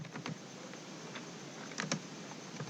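Typing Java code on a computer keyboard, soft scattered key clicks at an irregular pace over a quiet hum, with a quick cluster of sharper taps near the end.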